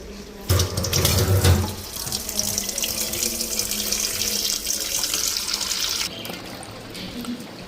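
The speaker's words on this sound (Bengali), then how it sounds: "এগুলো সব ধুয়ে আনি" Water runs steadily from a kitchen tap into a sink while utensils are washed, a loud continuous gush with a stronger burst near the start, cutting off near the end.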